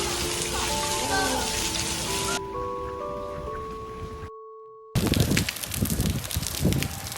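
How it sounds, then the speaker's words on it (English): Heavy rain pours steadily on a street in Korea, a dense broadband wash at first under sustained musical tones, briefly cutting out, then returning louder and closer with gusty surges. "The rain is getting heavier."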